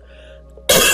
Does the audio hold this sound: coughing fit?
yes